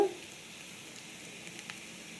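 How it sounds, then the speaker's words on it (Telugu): Masala spices frying in a pan make a soft, steady sizzle with a few faint stirring clicks, close and quiet, with no talk. "ఇప్పుడు బాగా వేయించుకోవాలి."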